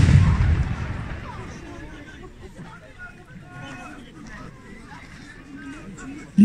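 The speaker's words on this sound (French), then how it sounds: "Les tirs débutent." Gunfire opens in a Battle of Austerlitz reenactment on Place d'Austerlitz in Ajaccio, a loud, booming volley at the start that rolls off into distant echo, then low rumbling crowd ambience with speech over it.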